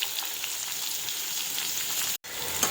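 Thinly sliced onion hits hot oil with crackling cumin seeds in a village-style chicken curry pan, giving a steady bright hiss of frying that holds throughout, broken only by a brief dropout near the end; no voices.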